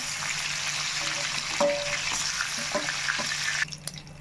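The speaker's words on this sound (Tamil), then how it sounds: "மீதி இருக்கிற இறாவையும் போட்டு இதே போல் பொறிச்சு எடுத்துக்கலாம்" Shrimp frying in oil with a steady sizzle and occasional pops and spatters, then the hiss drops away abruptly near the end.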